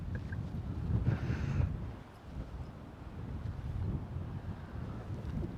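Gusty wind buffets the microphone on an open golf course, a low, rumbling roar that swells and fades in uneven gusts. It is strongest early and eases off briefly before building again, with no voices.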